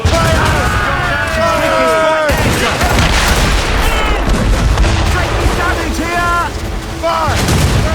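Ship cannons boom repeatedly in a naval battle in Assassin's Creed Rogue, loud broadband blasts and rumbling volleys from start to finish, with shouted commands and crew voices over the gunfire.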